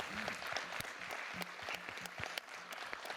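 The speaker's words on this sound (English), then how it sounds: "if you could all give our panelists a big round of applause" Audience applause for panelists at the close of a rotorcraft and VTOL symposium workshop, a steady patter of clapping at moderate distance with some low background murmur and occasional sharper claps.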